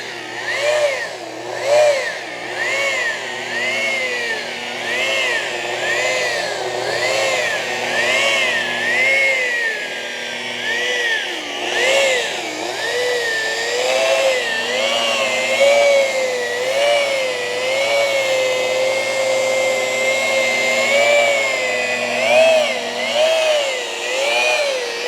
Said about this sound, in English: I'm polishing in the direction of the body line, the flow of the body line.